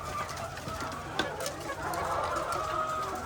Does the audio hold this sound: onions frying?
no